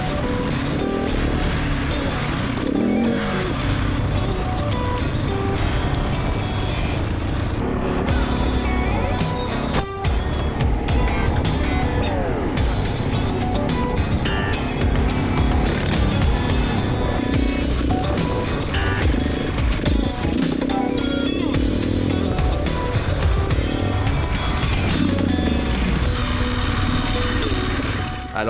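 A motorcycle with debris lodged in its radiator makes a harsh, continuous rattling and scraping racket over the engine noise, loud and close for the whole stretch, with no talking.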